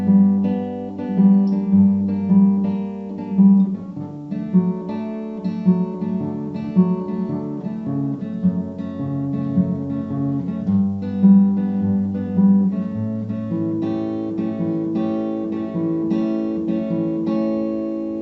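Solo guitar plays the bridge of a song, with steady rhythmic picked and strummed chords changing through the progression, close and clear with no voices.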